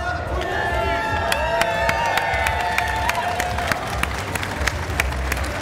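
A live crowd at a Super Mario Party gaming show at EGX claps and cheers steadily, a dense wash of applause with scattered whoops and voices throughout.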